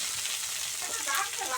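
A banana goes into a pan of frying radish and potato, and the oil sizzles loudly and steadily with a brief stirring scrape, no talk.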